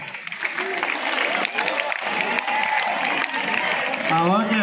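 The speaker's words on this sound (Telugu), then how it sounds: "ఒక్కసారి గట్టిగా క్లాప్స్" An audience claps for teachers at a residential school gathering in Srisailam, a steady stretch of applause mixed with voices and chatter, swelling louder near the end.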